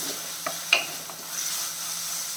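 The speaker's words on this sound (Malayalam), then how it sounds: "ഇഞ്ചിയും വെളുത്തുള്ളിയും അതും കൂടെ ഇട്ട് കൊടുക്കാം മീഡിയം ഫ്ലെയിമിൽ വെച്ചിട്ട് ഇത് നല്ലപോലെ വഴറ്റിയെടുക്കാം" Ginger and garlic sauté in coconut oil in a clay pot over a medium flame, making a low steady sizzle broken by a couple of brief scraping knocks from the stirring spoon.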